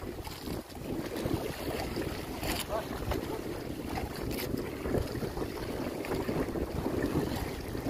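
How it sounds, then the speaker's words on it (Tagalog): Steady wind buffets the microphone with a constant roaring rumble, mixed with a watery rushing wash, outdoors and without pause. "At ang hangin mga kadirik nagsimula na naman."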